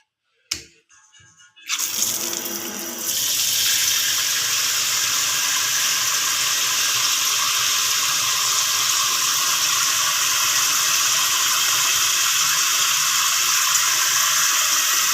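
Water pours steadily into a cooking pot for sinigang after a short clatter at the start, a continuous rushing splash heard up close with no talking.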